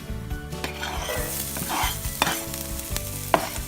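Chopped regular onion for chicken and corn soup sizzling in a pan, with close, repeated stirring scrapes and taps against the metal over a steady frying hiss.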